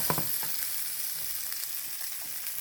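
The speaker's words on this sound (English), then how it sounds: "just kind of sweating the onions" Onions sweat in olive oil in a pan for meatball subs, giving a soft, even sizzle up close with a few light stirring taps early on.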